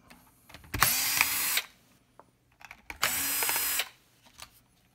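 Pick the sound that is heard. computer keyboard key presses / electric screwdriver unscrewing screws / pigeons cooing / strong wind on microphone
electric screwdriver unscrewing screws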